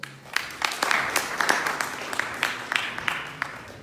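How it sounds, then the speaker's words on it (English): An audience at a business conference claps to welcome a speaker on stage, with moderate, sustained applause of many hands and individual claps standing out, fairly close and steady for the whole few seconds. "welcome Anastasia on stage with an applause"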